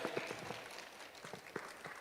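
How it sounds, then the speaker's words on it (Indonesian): Scattered hand clapping from an audience at a graduation ceremony of ITB PalComTech in Palembang: a sparse, steady run of individual claps at low, fairly distant volume filling the moment. "Tepuk tangan semuanya."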